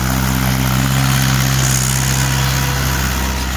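A Mahindra 575 DI XP PLUS tractor with a long-stroke engine runs at a steady idle, a loud, close, continuous low diesel throb with no voices.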